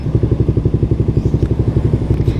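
A Raider 150 FI motorcycle engine being tuned for its TPS throbs close and loud in a fast, even, lumpy pulse, like a steady idle.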